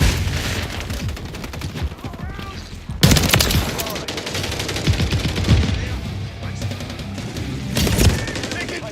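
Heavy video game gunfire with rapid automatic bursts and overlapping shots, loud and sustained with sharp peaks, while a game voice calls out over the shooting.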